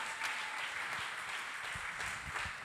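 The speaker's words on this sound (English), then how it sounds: "can we give one more hand clap for all of our guests?" A church congregation applauds its guests during a worship service, a dense, sustained wash of hand clapping from many people filling the room, with no talk over it.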